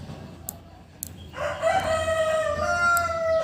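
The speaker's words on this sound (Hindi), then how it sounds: "ये मुर्गा बिल्कुल मेरे सर पे आके बोल रहा है।" A rooster crows loudly and close by in a long, drawn-out cock-a-doodle-doo that follows a few faint clicks from a knitting session, with no speech over the crow.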